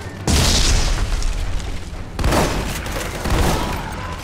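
Heavy explosions and bursts of gunfire from the co-op shooter video game Army of Two: The Devil's Cartel, with three loud booming blasts spaced across the stretch and continuous rumbling combat noise between them, no talking.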